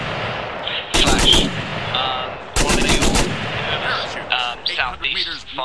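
Artillery fire in a military combat video game: two long, loud bursts of heavy booming shots about a second apart, followed by scattered fainter game sounds and effects.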